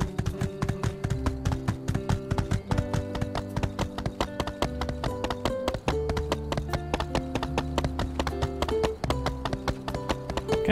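Horse hooves clip-clop steadily while riding in the My Time at Sandrock video game, a rapid, even patter of clear hoofbeats over soft game music.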